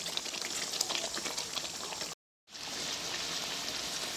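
Chicken korma simmers in ghee in a pan, giving a dense, steady bubbling sizzle that cuts out for a brief moment midway and then resumes.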